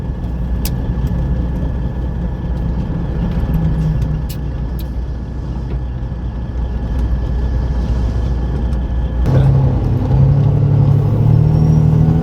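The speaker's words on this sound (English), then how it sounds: "this is a 1997 Peterbilt with a tiny little Detroit in it and a 13 speed" A 1997 Peterbilt 379 truck with a small Detroit engine and a 13-speed transmission drives along with a loud, continuous low engine rumble and road drone, which swells slightly near the end.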